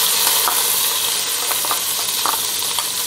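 Garlic frying in hot oil with whole spices for beef yakhni pulao: a loud, continuous, close sizzle with occasional stirring scrapes, no voices.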